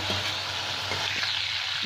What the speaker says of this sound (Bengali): তেলের মধ্যে দিয়ে দিলাম 5 ফোঁড়ন, একটা শুকনো লঙ্কা ছিঁড়ে,